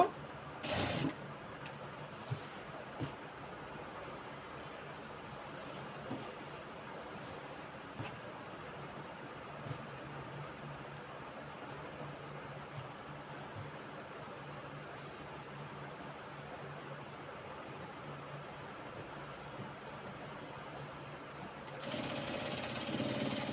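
A sewing machine runs steadily, stitching a lungi with a continuous mid-level whir and a few brief clicks, ending in a louder burst near the end.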